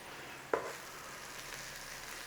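Spices sizzle in hot oil in a pan while palak paneer is cooked, a quiet steady frying hiss with one brief clatter near the start, no voices.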